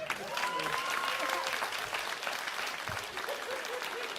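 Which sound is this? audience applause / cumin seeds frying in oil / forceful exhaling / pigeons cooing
audience applause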